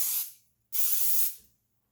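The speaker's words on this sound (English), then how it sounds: "just lightly spray my picture" Cooking spray from an aerosol can misted onto a paper picture in two short hissing bursts, the second longer than the first, close up with no talking.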